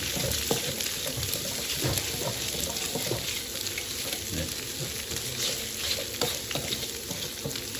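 Curry paste sizzles and crackles in a hot pan as it is stir-fried for a Thai onion-flower-and-egg dish, with steady frying hiss broken by scraping stirring strokes.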